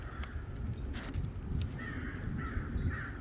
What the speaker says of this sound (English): There's something about the sounds of the birds and the crunch of the leaves beneath my feet